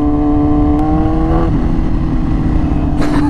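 A Yamaha R6 sport bike with an extremely loud aftermarket exhaust drones at high revs, close and steady, with a sharp harmonic whine easing partway through.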